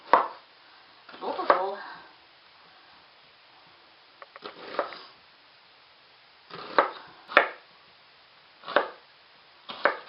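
A knife cuts onions into thin slices on a cutting board in a home kitchen, giving sparse, separate chopping taps with gaps between them, fairly quiet and up close, with no talking.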